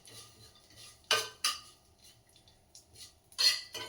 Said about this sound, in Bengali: আর একটু কাজু কিশমিশগুলো একসঙ্গে একটু নেড়ে নেব।